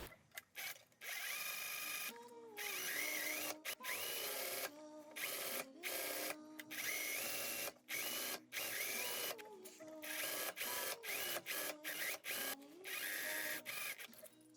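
A sewing machine fitted with a hemming foot runs along the edge of a rectangular skirt for a baby doll dress. It whirs in short stitching bursts broken by brief pauses, quiet and close, with no talking.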